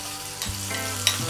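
Green chilies frying in a little hot oil for a tempering, a steady close sizzle with a brief burst of crackle as they hit the pan and a stirring scrape near the end.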